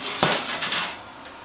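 A metal pastry pan lifted out of an oven gives a bright clatter, a sharp clank followed by a few lighter metallic rattles, close and alone.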